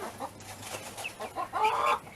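Young guinea fowl keets giving short high chirping calls, several in quick succession over a faint background, close but fairly quiet.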